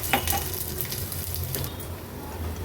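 Crushed ginger-garlic paste sizzles steadily in a ghee tempering with mustard seeds, cumin and curry leaves for a Maharashtrian thali, a close, even hiss and crackle with no talking.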